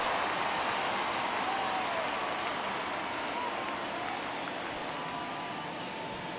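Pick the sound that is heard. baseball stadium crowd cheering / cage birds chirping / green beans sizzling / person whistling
baseball stadium crowd cheering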